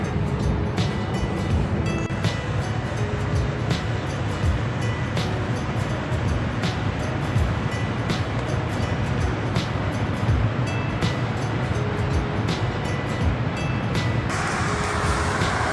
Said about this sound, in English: You can hear the river rushing in the background.